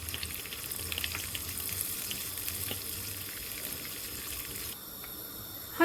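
Oil is poured onto butter melting in a frying pan, making a steady soft sizzle and pouring hiss that fades slightly near the end, close and fairly quiet with no talking.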